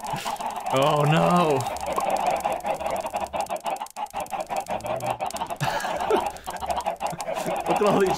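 Chickens in the Minecraft video game cluck and squawk repeatedly, the calls coming in scattered bursts against a busy background of game sounds.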